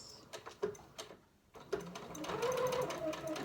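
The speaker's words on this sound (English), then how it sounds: "Do a few stitches and then a few stitches reverse." A sewing machine stitching a pincushion, running a few stitches forward and then in reverse, with short bursts of needle clatter, a brief pause, then a steadier whirring run, fairly quiet and close.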